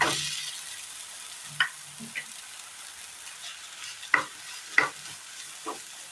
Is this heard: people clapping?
no